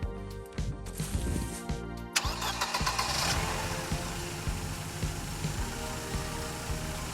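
A Mercedes W124 200E, imported from Italy, cranks and fires up, then settles into a steady mid-pitched idle with a brief rev near the start, close and fairly loud throughout with no talk.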